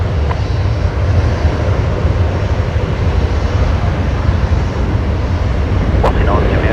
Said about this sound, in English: Qantas 941 heading to Perth tonight. The 737-800.